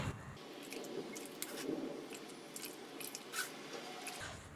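Wet grated coconut is squeezed through a strainer to press out coconut milk, making soft squelching squishes and drips at close range, with no talking.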